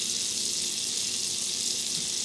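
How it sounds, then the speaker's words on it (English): Juice from canned peaches draining into a sink, a steady, close, hissing pour of liquid that runs continuously without talk. "So we're just going to drain off our peaches."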